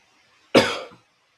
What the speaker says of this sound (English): I'll be coughing on that for a minute